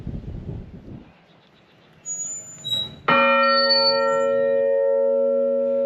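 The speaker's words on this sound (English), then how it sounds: "Oh, there's a bell." A Baptist church bell is struck once, loud and close, its bright tone ringing on and slowly fading, after a few quiet knocks and shuffles.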